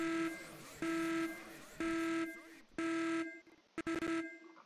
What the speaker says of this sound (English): Why is that alarm so annoying?